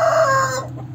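A short, loud chicken call sounds up close, a drawn-out clucking cry that stops abruptly with nothing after it.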